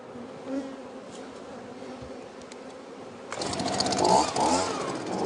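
Honey bees buzz steadily around hive frames in a close, droning hum that swells louder and busier partway through, with scrapes and handling noises over the swarm.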